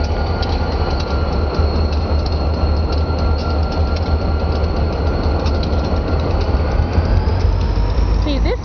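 A Berkshire Hills train pulled by two engines rolls past with a loud, steady rumble of wheels on track and a thin squeal rising near the end, while someone talks over it.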